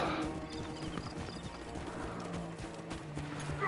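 Horse hooves clip-clop steadily amid a busy, dense soundscape in the game Assassin's Creed Origins, with a brief whinny mixed in; continuous and fairly loud throughout.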